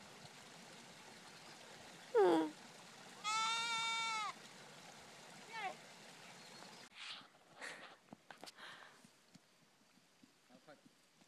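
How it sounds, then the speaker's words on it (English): Goats being driven downhill by a herder at the end of the day in An Xi, with a few loud, wavering bleats near the start and middle, then quieter scattered bleats and rustling. "there's this lady who's driving all the goats downhill."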